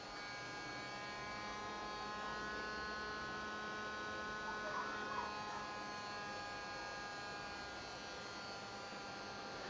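A small sensored brushless DC motor from a CD-ROM drive, driven by a PIC16F877A controller, whining steadily with a dense stack of tonal hum and buzz, faint and even, rising slightly in intensity as its speed increases.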